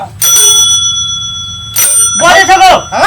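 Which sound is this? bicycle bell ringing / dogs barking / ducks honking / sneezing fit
bicycle bell ringing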